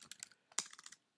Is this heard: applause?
no